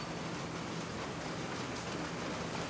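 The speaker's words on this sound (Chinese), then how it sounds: "突然下那么大雨啊？" Heavy rain pours down in a steady, dense hiss, even and unbroken throughout, with no voices over it.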